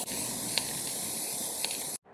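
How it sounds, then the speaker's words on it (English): A can of spray paint hisses steadily onto cardboard for about two seconds in a close, continuous spray with faint clicks, then stops abruptly. "Bit of spray painting"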